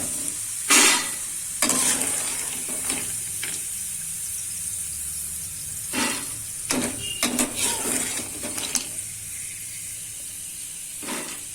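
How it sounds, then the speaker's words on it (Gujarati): Hot oil sizzles steadily as herbal ingredients (himej and harde) fry, broken by several louder bursts of crackling and stirring clatter at irregular intervals, close and without voices. "આ રીતના બધે આપણે તળી લેશું હવે"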